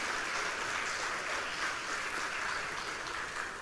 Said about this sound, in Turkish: Bir alkışlayın bakalım.